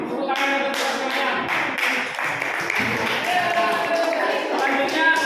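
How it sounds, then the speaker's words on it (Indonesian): A classroom of students claps together for everyone in a teacher-led positive-culture session, a steady, fairly loud patter of hand taps filling the room, with voices and chatter mixed in. "tepuk tangan untuk semuanya"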